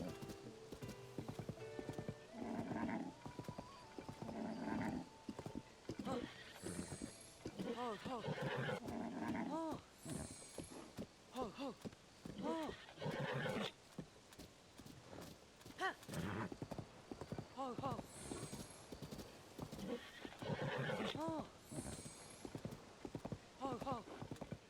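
Horse hooves clip-clopping with an occasional neigh in Zelda: Tears of the Kingdom, mixed with game effects and someone talking over much of it.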